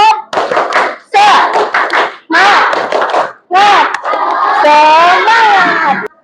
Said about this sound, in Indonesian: Kita tepuk semangat dulu yuk.